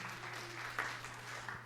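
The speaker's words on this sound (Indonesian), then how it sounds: "Tepuk tangan yang meriah untuk kemuliaan nama Tuhan." Congregation applause during a church sermon, a soft steady patter of many hands clapping at a distance over a low hum, lasting under two seconds.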